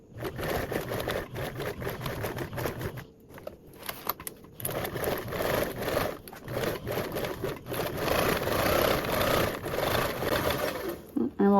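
A sewing machine stitches steadily around a project's perimeter at about a 1/8 inch seam, with a brief pause partway, close and fairly loud while a voice talks over it.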